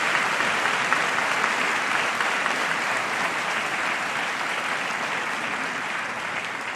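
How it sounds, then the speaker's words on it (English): A large audience claps steadily in a broad, dense wash of applause that holds at an even level throughout, with no voices over it. "a round of applause"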